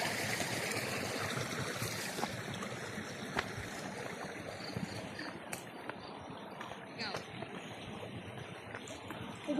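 Mountain water from the village source in Buscalan, Kalinga, runs and splashes steadily, a broad continuous wash close by with scattered small clicks, and no talking over it.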